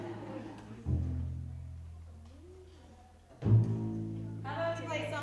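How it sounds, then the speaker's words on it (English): A middle school jazz band member plays a string bass in a school setting, a few plucked low notes ringing out near and fairly loud, with a quieter stretch between them and a background murmur from the room. "Why don't you show them how a bass sounds?"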